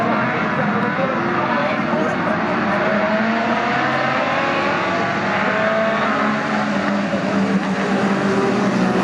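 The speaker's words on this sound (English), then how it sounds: "We are about to go racing once more here at the" World Championship sports racing cars at Goodwood, with a dense, continuous engine roar at steady high volume and pitch that shifts as cars accelerate, under loud commentary.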